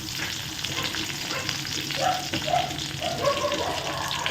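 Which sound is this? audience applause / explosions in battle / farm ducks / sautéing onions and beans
sautéing onions and beans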